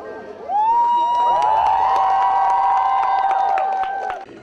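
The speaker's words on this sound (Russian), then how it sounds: "сорвал бурные овации собравшихся" At a children's militarized holiday event near Belgorod, a crowd cheers and shouts for a strongman in a loud sustained roar with high voices and claps, then it fades out near the end.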